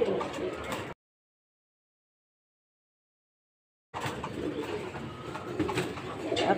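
Pigeons or doves coo in the open near a rooftop garden with chilli plants, soft and steady against outdoor ambience, broken by a stretch of silence before resuming.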